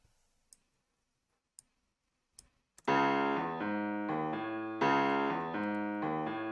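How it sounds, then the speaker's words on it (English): A few soft clicks, then thin, trebly piano chords with all the bass frequencies cut by EQ, played in a steady sequence of changing chords. "if we wanted to cut all the bass frequencies of the piano, it would have sounded like this."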